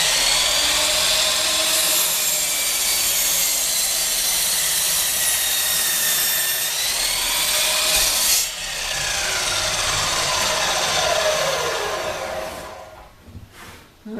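Harbor Freight 12-inch double bevel sliding compound miter saw cutting through heavy oak, a loud continuous whining cut lasting over twelve seconds before the motor winds down.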